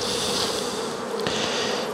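Honey bees buzz densely at a hive entrance while attacking a cricket, a continuous close, even drone with no voices over it.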